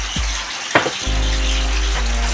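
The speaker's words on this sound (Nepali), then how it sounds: "अब हेर्नुहोस् यहाँ अलिकति पानी हाल्छु" Water poured into chicken chili gravy in a hot pan: a brief splash and stirring bumps, then a loud, sustained sizzle with bubbling that continues to the end, no voices.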